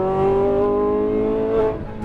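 A Lamborghini Huracan Performante on a race track, its engine droning loud and steady under load, then dropping as the throttle lifts off near the end.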